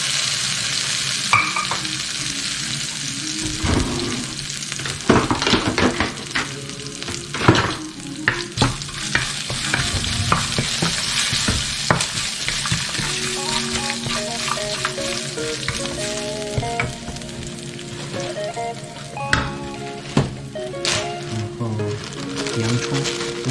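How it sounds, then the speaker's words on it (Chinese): Cinnamon bark and aromatics are stir-fried in hot oil in a pan for chicken curry, giving a loud continuous sizzle broken by scraping stirs and clinks of the utensil. "爆香"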